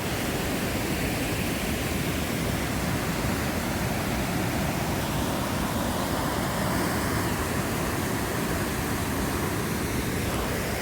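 Continuous dense roar of rushing falling water from a waterfall in the Scottish Highlands in winter after about a week of rain, broad and steady from start to finish, loud and enveloping with no voices.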